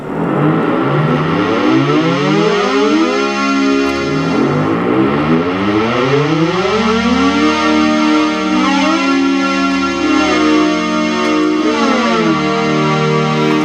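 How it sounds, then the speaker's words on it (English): Buzzy, distorted Memorymoog synthesizer chords sliding smoothly between pitches using polyphonic glide, with several notes gliding together in long sweeping bends, loud and continuous. "You have something called polyglide, which means when you're in polyphonic mode, it still has glide."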